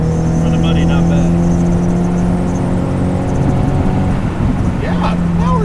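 An SR20-swapped Nissan 240SX engine pulls hard at about three-quarter throttle, a loud steady drone with a rising pitch near the end, heard close up and continuous throughout.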